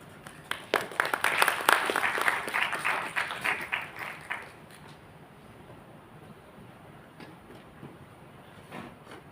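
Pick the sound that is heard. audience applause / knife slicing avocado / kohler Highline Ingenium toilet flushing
audience applause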